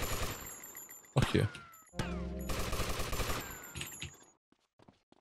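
Gunfire in GTA Vice City: a loud burst of shots followed by a rapid run of rattling fire, with a short spoken exclamation over it before the sound drops away.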